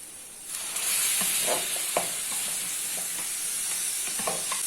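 Tomato puree goes into a frying onion-spice masala for egg curry, a soft hiss and sizzle rising as it hits the pan, followed by repeated scraping stirs of a spoon, close and moderately loud, no voices.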